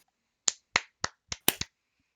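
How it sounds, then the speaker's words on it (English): A light golf clap: six sparse, soft hand claps in a slow, uneven rhythm, close and alone, with the last two coming quickly together. "I give you the golf clap."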